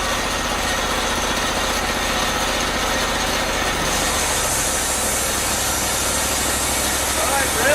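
A Hot Jet II hot water trailer sewer jetter engine runs loud and steady, a continuous close-up drone that shifts slightly in pitch as it revs.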